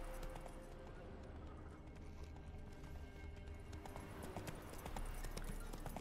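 A horse's hooves clip-clop at a steady walking rhythm across open ground in The Witcher 3, quiet and near, over a soft ambient wash.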